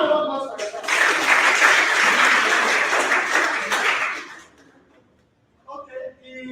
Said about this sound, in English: A round of applause for yourselves.